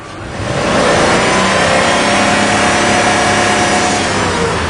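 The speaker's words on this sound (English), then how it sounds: "We need to increase RPM." A car engine under repair for lean-running faults is revved up to higher RPM, a loud, steady, sustained engine roar that builds in the first second and then holds near the microphone with no talk.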